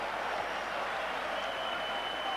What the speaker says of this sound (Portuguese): Palmas e assobios, uma mescla por parte dos adeptos que aqui estão no Estádio das Antas